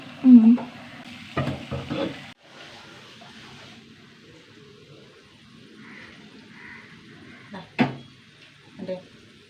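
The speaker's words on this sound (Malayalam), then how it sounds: "കുറച്ച് ഉണക്കമീനുണ്ട് അത് വറുത്തെടുക്കട്ടെ" Soft sizzling of dried fish frying in a pan, broken by occasional clanks of a utensil, with a faint murmur of voices.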